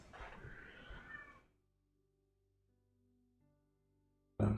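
A studio cat meows for attention, a short run of close, clear meows with a whine at the start, followed by near silence and a faint hum before a loud bump at the very end.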